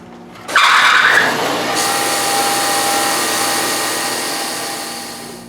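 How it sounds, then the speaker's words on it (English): A brand-new carbide end mill cuts a slot in steel tubing held in a vise, starting with a loud, harsh screech that settles into a steady, high-pitched whine of the milling machine, alone and close. "I'm milling a slot in it"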